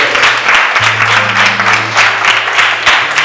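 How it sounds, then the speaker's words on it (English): A room of schoolchildren at a school career day claps for a girl, a dense, steady round of applause lasting several seconds at close range, with faint voices and hum underneath. "can you give her a round of applause?"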